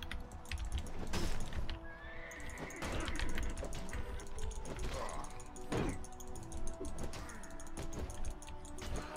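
Horse whinnies and rhythmic hoofbeats ring out in a Mount & Blade battle scene, with clattering game effects and a few loud neighs over a busy, continuous background.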